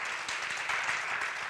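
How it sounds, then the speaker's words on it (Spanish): Church congregation giving a loud round of applause during a sermon, a dense, continuous wash of clapping heard alone for a brief moment. "Dale un fuerte aplauso si tú lo crees conmigo."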